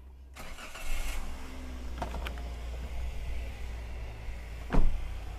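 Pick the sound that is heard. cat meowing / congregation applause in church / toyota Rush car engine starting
toyota Rush car engine starting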